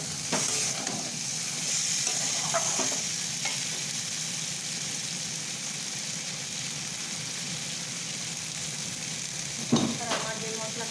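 Spice paste poured into hot oil tempered with five-spice for shukto fries with a steady, close sizzle, broken by a few scraping stirs of a spoon through the mixture.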